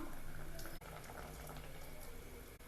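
Cow's milk poured into a pot of cooked sago payasam, giving a steady, close liquid rush that runs without pause for the whole moment.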